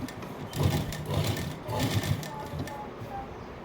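An electric sewing machine runs in short bursts, stitching a firm seam on cloth, its close mechanical whirr rising and pausing between runs.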